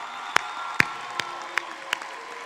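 At a 2018 MTC graduation ceremony, the audience applauds standing Armed Forces veterans: a soft, steady bed of clapping with five sharp, nearby claps at regular intervals.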